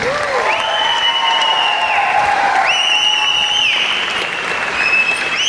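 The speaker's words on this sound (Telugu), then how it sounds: "ఎస్పీ భారత్ సార్కి నిజంగా హైదరాబాద్ విన్నింగ్ టీం తరఫు నుంచి ఒక గ్రేట్ రౌండ్ ఆఫ్ అప్లాజ్ అండి" An audience gives a steady, loud round of applause that runs for over five seconds, with a few sustained tones ringing above the clapping.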